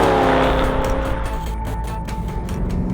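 A BMW E92 M3 Competition with its naturally aspirated V8 runs loud and steady for the whole stretch, its engine drone holding a constant pitch with a faint tire squeal edge and no talking.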